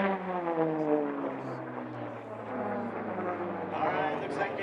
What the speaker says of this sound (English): let's just listen to these three airplanes with 700 horsepower and twin turbos.